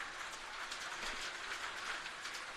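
Rain falling on the roof of a football stadium, a steady, even hiss of drops drumming on the surface, faint and continuous with no voices.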